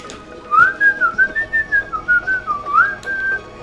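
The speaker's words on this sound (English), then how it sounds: "That was the Wander Over Yonder theme song" A person whistles the Wander Over Yonder theme song, a loud, close, clear melody of short rising and falling notes in a steady bouncy rhythm, ending on a held tone.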